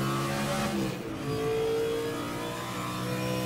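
A Ford Mustang IMSA GTO race car engine revs hard in a Raceroom sim race at Mid Ohio, a steady close mid-pitched roar with gear-change dips and climbing harmonic whine throughout.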